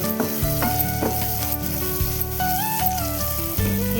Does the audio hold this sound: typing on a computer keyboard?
no